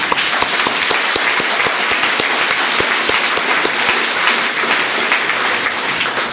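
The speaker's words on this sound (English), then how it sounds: "I just want another round of applause for all the soloists and the company." A gala crowd at an ice theatre figure-skating show gives loud, sustained applause for the soloists and company, a dense, even wash of many hands clapping with no letup.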